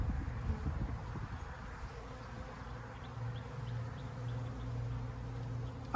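Honeybees buzzing around a newly installed hive, a faint continuous low hum with occasional closer passes, soft and steady in a quiet outdoor setting.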